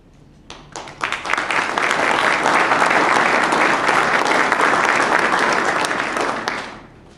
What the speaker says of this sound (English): I know that applause was for the Speaker